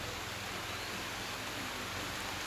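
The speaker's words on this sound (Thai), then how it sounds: "ฝนตกด้วย" Rain falls steadily behind a noodle shop during night fishing, a dense, unbroken hiss that fills the whole stretch with no voices over it.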